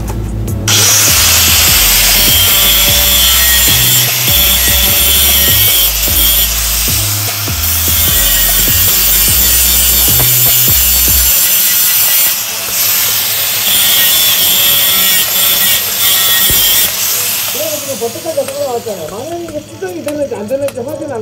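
A power grinding tool cuts out a root-concavity weld defect on a steel pipe, running loud and close with a harsh, uneven whine. After it stops, someone talks briefly.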